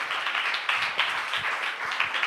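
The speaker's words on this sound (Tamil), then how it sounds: "நல்ல கைத்தட்டி அப்பாவுக்கு நன்றி சொல்லுவீங்களா?" Church congregation clapping hands together during a worship service, a steady patter of many hands at moderate distance, continuous with slight swells, no voices.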